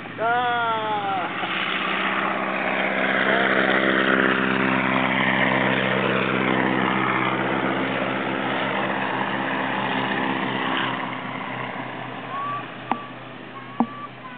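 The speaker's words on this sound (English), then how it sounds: "Notice how slowly the airplane is flying." A 1930s German Storch propeller aircraft drones steadily and loudly for the whole stretch, flying slowly and low just off the ground, its engine holding a low, even hum as it passes close by, with a few faint beeps near the end.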